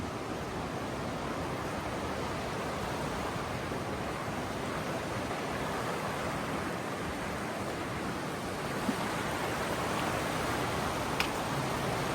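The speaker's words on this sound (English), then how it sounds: "Cool waterfalls up there. Look at that." Small waterfalls seen from a bridge produce a steady, even hiss of falling water, distant and moderately loud, with no voices over it.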